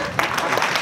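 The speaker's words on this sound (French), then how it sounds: "Applaudissements." Applause rises from a comedy festival audience, a short burst of crowd clapping heard alone without any voices.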